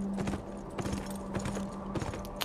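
Horse hooves clip-clop at a steady rhythmic pace in the video game Beyond Two Souls, close and clear with a faint musical hum underneath.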